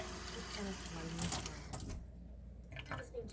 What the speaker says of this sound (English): I could rinse that out with a little water.